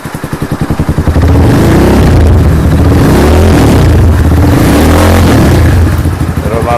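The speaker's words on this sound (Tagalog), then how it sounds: "tunog ng bullet pipe dito sa E5 muffler" A Classic 250 motorcycle fitted with a bullet pipe and no silencer revs loudly up close, its engine rising from a rapid idle putter into a sustained raw roar with clattering exhaust pulses.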